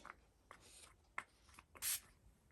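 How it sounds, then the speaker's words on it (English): A faint scratchy rubbing, then one short soft hiss of oxide spray applied lightly to a card near the end, quiet and close. "So what I'm going to do is just spray very lightly"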